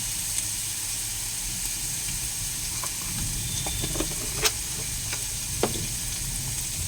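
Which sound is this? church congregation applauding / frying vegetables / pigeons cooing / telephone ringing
frying vegetables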